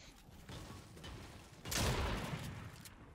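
Gunfire in a video game: faint mechanical clicks, then a sudden loud burst of shots that rings out and slowly fades, with no talking over it.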